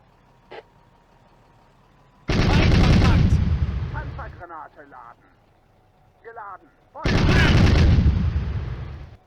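Gunfire and a shell hit on a Panzer 38T tank in the Firefight war game, two loud sustained bursts of booming fire separated by a quieter stretch with a voice talking between them.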